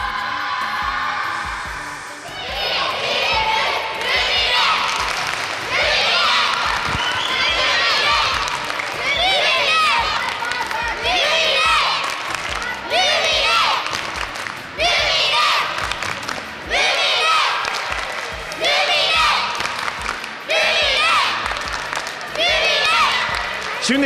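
A children's crowd at a school summer volleyball tournament cheers in rhythmic chant-like bursts, loud and sustained across the hall, with an adult voice speaking over it.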